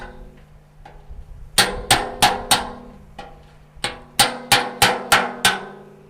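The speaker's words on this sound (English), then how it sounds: "You want to use a good sharp chisel." A sharp chisel is driven by hammer blows. Crisp, ringing strikes come close and loud in two quick bursts of four or five evenly spaced hits, with a few faint taps before them.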